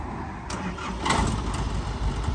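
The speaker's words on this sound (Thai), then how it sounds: "เปิดฟ้าโป่งสตาร์ทรถ สตาร์ทก่อน" A Mitsubishi pickup truck's diesel engine cranks and catches, then runs with a loud, rough rumble close by, with no talk.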